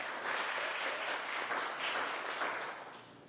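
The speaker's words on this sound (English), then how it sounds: "Please give them a round of applause" An indoor audience at a congressional candidate forum for Virginia's 7th District applauds steadily for about three seconds, then the clapping tapers off.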